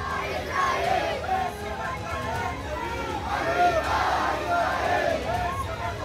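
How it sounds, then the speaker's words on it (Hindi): A protest crowd in a night-time street procession chants slogans in unison, loud, dense voices rising and falling in repeated waves with continuous babble throughout. "उसी रोशनी में लगाए जा रहे नसरल्ला के लिए नारे।"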